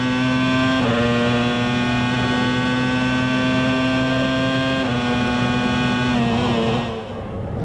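Formula 1 engines of the 1997 Jordan Peugeot and Ferrari cars at the German race, a loud sustained high-pitched drone that holds steady with brief gear-change dips before fading toward the end, with no talk over it.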